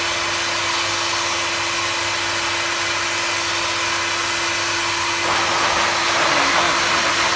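A Japanese domestic 100V blower runs in a steady broadband rush with a faint constant hum, rising slightly louder and rougher toward the end, with no voices over it.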